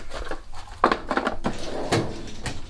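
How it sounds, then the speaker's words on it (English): A drawer is pulled open and rummaged through to fetch a 2S LiPo battery for an RC truck charger, giving a few close, sharp wooden knocks and rattles in quick succession with no talking. "Let me just grab a battery out of this drawer here."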